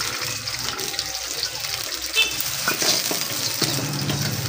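Onion fries in a small kadhai with a continuous close sizzle and crackle, plus a few brief stirring scrapes and no talking.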